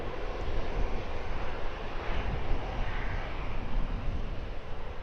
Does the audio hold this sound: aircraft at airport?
yes